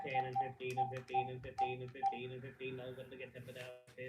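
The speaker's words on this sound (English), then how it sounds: "I'm having to make a phone call right now for a second while we try and figure out the price on a clock at the store" Telephone keypad dialing tones while placing a call, a quick run of short, clear beeps in an uneven rhythm, followed by a quieter stretch with faint voice-like sound.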